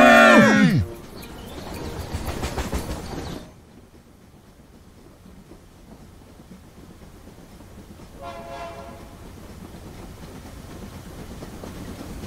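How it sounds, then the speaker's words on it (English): A cartoon train passing by in a children's animated show, a brief bright whistle followed by a rumbling roll that fades, then a quieter second passage later on. "Another train is passing by."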